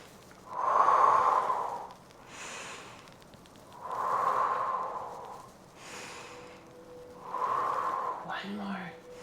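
Slow, deep breaths during a stretching workout with skier squats and rotations: three long exhales about three seconds apart, each followed by a fainter inhale, close and audible.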